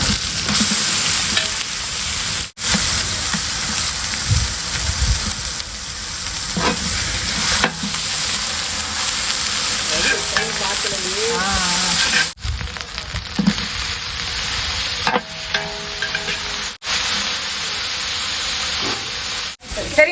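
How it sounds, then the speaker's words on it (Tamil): Onions sautéing in a pan with ginger and garlic added, giving a steady loud sizzle and hiss with stirring scrapes throughout and a few brief cuts in the sound. "நல்லா வதங்கி இது கூட வந்து நான் இஞ்சி பூண்டு போட்டுக்கிறேன்"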